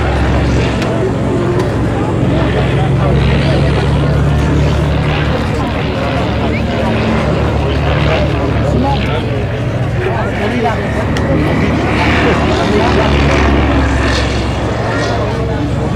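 An ultralight replica of a 1930s Stampe biplane flies at an air show meeting in Sarlat-Domme, its steady propeller and engine drone loud and continuous throughout amid broad outdoor noise.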